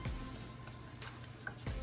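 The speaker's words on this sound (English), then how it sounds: "We got a little sizzle going on." Butter sizzles softly and steadily in a hot pan, a faint continuous hiss with a few tiny pops, heard alone.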